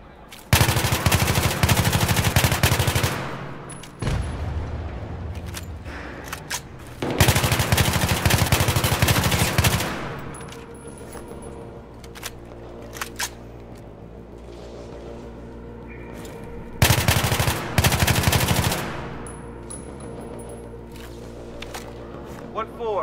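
Bursts of machine-gun fire from Battlefield 3 hammer out in several loud, rapid volleys, separated by quieter stretches where battlefield noise and voices carry on.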